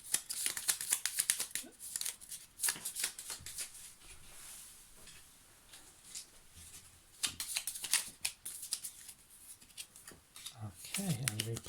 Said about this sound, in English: I'll shuffle up the power-ups.